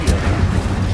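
An Incendio fire spell cast in Hogwarts Legacy, a short loud booming burst with a crackling, rumbling low end that stays dense for about a second.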